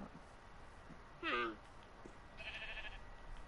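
A sheep in a video game gives one short, clear bleat partway through, set against a quiet background with faint rustling and a brief higher tone afterward.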